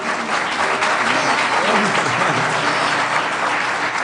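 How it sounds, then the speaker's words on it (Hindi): A large crowd at a Diwali poetry gathering (kavi sammelan) gives loud, sustained applause to welcome the singers Ahmed Hussain and Mohammed Hussain, a thick continuous roar of clapping with some voices underneath. "उनका स्वागत जोरदार तालियों से।"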